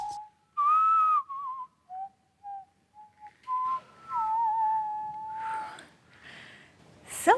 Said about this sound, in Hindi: मैंने नहीं बजाई सर, मुझे तो सीटी बजाना आता ही नहीं है